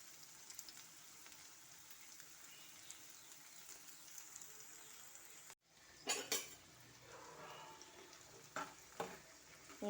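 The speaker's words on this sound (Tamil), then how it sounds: "நல்லா வதக்கி விட்டுப்போம்." Finely chopped ginger and garlic sauté in a pan with a soft, steady sizzle. Partway through, a spoon stirs and clinks against the metal in several short bursts.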